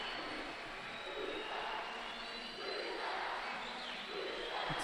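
An arena crowd at a judo Grand Slam in Baku roars and cheers after a bronze-medal bout, a broad sustained swell of voices with surges of shouting, fairly distant and continuous.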